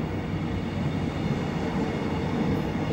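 A Caledonian Sleeper passenger train passing at Dumbarton, a steady close rumble of wheels and carriages rolling by, loud and continuous with no talk.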